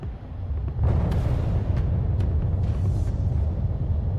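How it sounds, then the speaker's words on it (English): Missile explosions in the video game Armored Core 6, a loud sustained rumbling roar with several sharp blasts layered over a deep continuous boom. "Missile launch sequence complete, Chief. You're the best, Chatty. Here come the fireworks."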